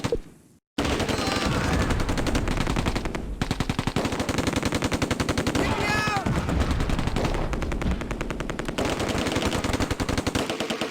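Vickers machine gun from Close Combat: A Bridge Too Far, rattling in long sustained bursts of rapid, even shots after a brief lull, loud and close, with other battle noise mixed in.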